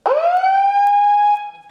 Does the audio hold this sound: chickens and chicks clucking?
no